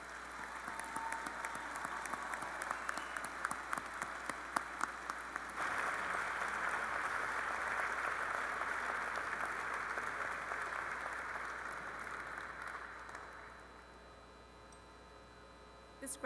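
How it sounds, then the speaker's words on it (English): Applause for doctoral candidates at a university graduate student and faculty recognition ceremony: a large hall full of steady clapping over a faint electrical hum, swelling midway, then thinning and fading toward the end. "Let's have a round of applause for all the doctoral candidates"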